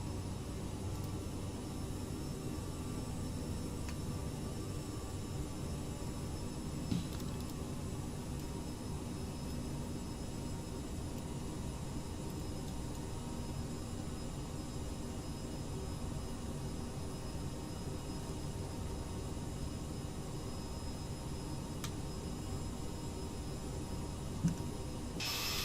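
Steady jet engine roar from a CRJ-700 regional jet taxiing at a high-altitude airfield in a flight simulator, a continuous broadband drone with no talking.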